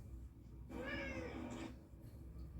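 Jasper, a pet cat, gives a single clear, drawn-out meow lasting about a second, fairly close, against a quiet room with low background hum and no talking.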